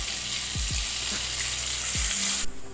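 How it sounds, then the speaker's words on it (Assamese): Chicken sizzles as it fries in hot butter in a pan, a steady loud crackle with a few brief clunks of stirring, running alone without talk. "এতিয়া ইয়াত মই মাংসখিনি ভালদৰে ফ্ৰাই কৰি ল'ম"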